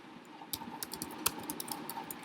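Quiet keystrokes on a computer keyboard entering a number into a Python factorial program, a quick irregular run of light clicks over a faint steady hum, with no one speaking.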